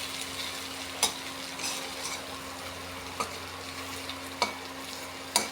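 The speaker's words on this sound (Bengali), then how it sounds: "অল্প মাছের তেল ছিল, ওটা দেয়া পেঁয়াজ ভাজি করছি" Onions and garlic sizzling in a little leftover fish oil, a steady soft frying hiss with occasional sharp clicks of a spatula against the pan, no voices.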